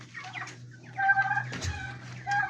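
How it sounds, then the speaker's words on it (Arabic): Turkeys in a pen give soft, close clucks and trilling calls over a low steady hum, with a few louder overlapping calls in the middle. "ندخل الروميه بس."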